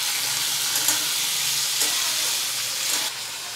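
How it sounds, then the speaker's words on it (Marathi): Tomatoes frying in oil in a pan for a tomato chutney, a steady close sizzle with a few faint stirring clicks, no talking. "टोमॅटो पण तेलावर 1-2 मिनिट परतून घेऊया"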